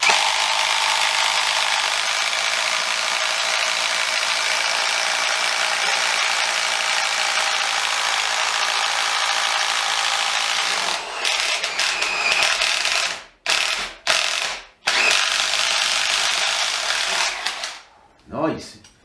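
Bosch GDX 18V 200C cordless impact driver drives a screw into decking with a sustained loud rattling hammer for about ten seconds, then stops and restarts in short bursts near the end.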